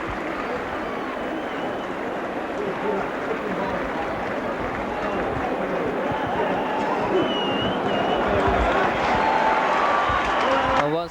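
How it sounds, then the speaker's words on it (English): A large crowd at a Wigan v Warrington rugby league match in Central Park applauds a try, a dense, steady roar of clapping and cheering that runs the whole time and swells slightly toward the end, with a commentator talking over it. "giving Ellery Hanley a good round of applause"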